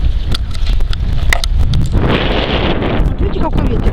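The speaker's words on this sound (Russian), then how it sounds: "Даже моего голоса не слышно, потому что очень сильно дует." A strong, cold spring wind buffets the microphone outdoors with loud, continuous roaring gusts, and a voice talks faintly underneath.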